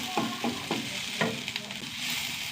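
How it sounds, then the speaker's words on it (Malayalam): Onions sauté in a pan, a soft, continuous sizzle broken by a few close stirring scrapes over a couple of seconds. "ചെറുതായിട്ടൊന്ന് വാടി വെക്കണം ഉള്ളി"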